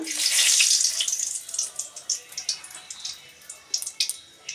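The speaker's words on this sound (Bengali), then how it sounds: "তেলটা আমার হয়ে গেছে, আমি এর মধ্যে ফোড়ন দেব, তেজপাতা" A bay leaf dropped into hot oil for tempering gives a sharp, bright sizzle that bursts loudly at first, then settles into fading crackles and spits, close by with no talk.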